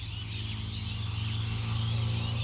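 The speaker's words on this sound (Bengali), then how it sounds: "হাজার হাজার পাখির কলকাকলিতে পরিবেশটা অনেক সুন্দর।" Many birds chirping and calling together in a garden at dawn, a dense continuous chorus of tweets, with a steady low hum running underneath throughout.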